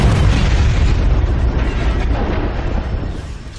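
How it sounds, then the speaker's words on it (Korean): Explosion in a film scene built from smoke and debris rather than the blast itself: a heavy, sustained rumbling roar with dense low boom and crackling debris noise, loud and steady across the whole stretch, slowly easing off toward the end. "이렇게 폭발 자체가 아닌 연기와 잔해만을 보여줌으로써 최소한의 컴퓨터 그래픽 효과로도 대규모 폭발을 담아내고 있습니다"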